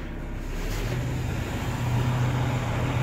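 A tanker truck's PTO-driven compressor runs steadily after engaging, a continuous low mechanical drone with a humming tone that rises slightly, fairly loud and alone without voices.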